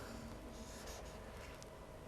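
Pencil drawing on paper during an art lesson, a faint steady scratchy rasp of strokes continuing without pause, quiet and close.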